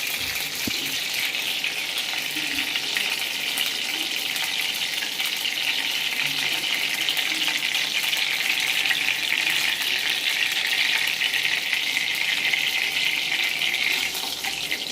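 Continuous, loud hissing sizzle of samosas frying in hot ghee, steady and close with faint crackles throughout.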